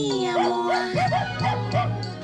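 A dog in a film scene set in a house with two cats gives a quick series of short yips and whimpering barks, close and clear over a soft musical background.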